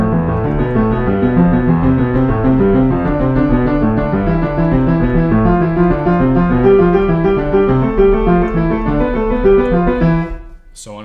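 A piano plays finger warm-up exercise number six, a fast, even run of repeating note patterns that moves steadily up and down, close and loud, ending abruptly with no talk.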